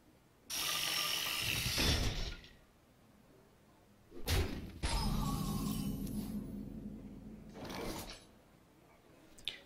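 Flame Vacuum, a mechanical minion card in the Hearthstone game, being played: a burst of rattling, ratcheting machinery with grinding gear-like clatter, a pause, then a longer whirring mechanical rumble and a final clunk, heard alone without talk.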